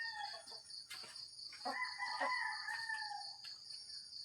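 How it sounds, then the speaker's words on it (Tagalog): Several roosting chickens near a chapel cluck and crow together, with drawn-out crowing calls over scattered clucks, over a steady high-pitched hum of insects. "Dami palang na manok dito natutulog."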